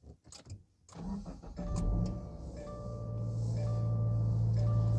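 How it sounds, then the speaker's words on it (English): A car engine cranks and catches after a few faint clicks and thumps inside the car, then settles into a steady, close idle hum. "So I have to start the car up."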